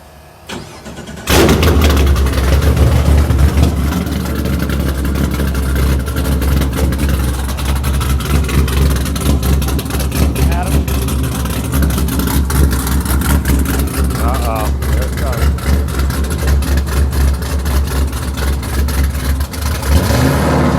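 A Camaro SS drift car's engine cranks and fires up abruptly, then holds a loud, deep idle with rumbling revs close by, while people talk over it.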